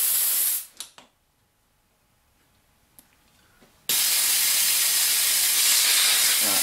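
Compressed air hisses loudly from an Avdel ProSet XT3 rivet tool with its bleed screw undone, a steady broad rush that cuts out after a brief burst, pauses with faint clicks, then resumes continuously and close.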